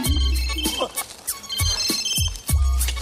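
A telephone rings in a Taxi 3 film scene, a loud repeating electronic ringtone pulsing steadily over a busy background with low thuds.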